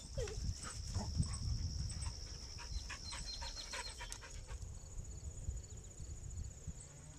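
Boone, a pet dog eager for a morning walk, pants quickly and rhythmically up close, while crickets and insects trill steadily in the background outdoors.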